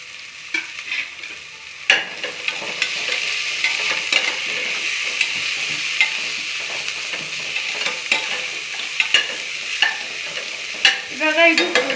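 Mint leaves fry and sizzle in a pan with a steady hiss, while a spoon stirs and scrapes through them in irregular taps. There is no talking.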